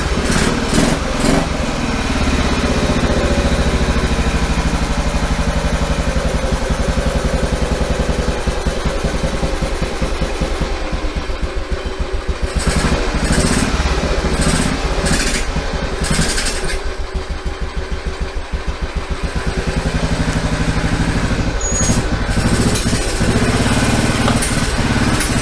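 An old ex-Enduro India Royal Enfield 350 Bullet single-cylinder motorcycle engine, long laid up, runs close by at a steady idle with a rough, pulsing throb and slight variations in speed throughout.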